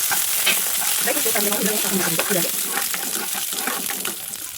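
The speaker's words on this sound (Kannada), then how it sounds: "ಇವಾಗ ಇದರಲ್ಲಿ ನಾನು ಡ್ರೈ ಫ್ರೂಟ್ಸ್ನ ಹಾಕ್ಬಿಟ್ಟು ಸ್ವಲ್ಪ ರೋಸ್ಟ್ ಮಾಡ್ತೀನಿ" Dry fruits roasting in hot ghee in a pan give a steady, close crackling sizzle, with stirring scrapes running through it and a few brief murmurs of speech.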